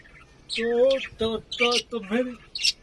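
An Australian parrot gives several short, squawking calls in quick succession, close and clear, with brief pauses between them.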